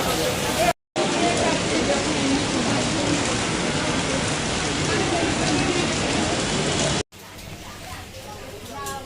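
Heavy rain pours down hard in a steady, loud hiss of drops hitting surfaces close by, briefly cut off twice, with quieter dripping afterward.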